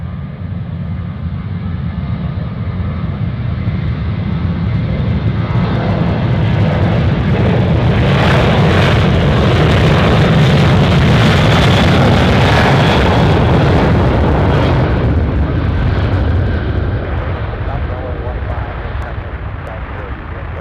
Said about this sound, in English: Let's go to a close-up takeoff.